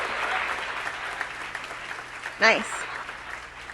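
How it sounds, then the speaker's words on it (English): Audience applause at a Green New Deal town hall, a dense steady clatter of many hands with a brief voice calling out over it. "Let's also have another round of applause for JIMENEZ."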